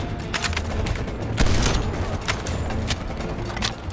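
Machine gun fire in Call of Duty Black Ops Cold War, a sustained stream of rapid shots with sharp, evenly spaced cracks and a heavier burst midway, loud and close with no talk over it.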